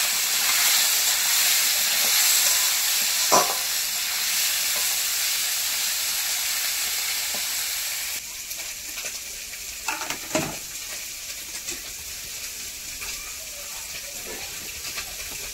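Small mourola fish sizzle steadily in hot oil in a pan, with intermittent scraping and clacks as a spatula turns them, close and continuous.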